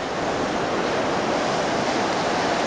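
Steady broadband roar of surf breaking on a flat sandy beach where small-eyed rays are fished, continuous and fairly loud with no talking.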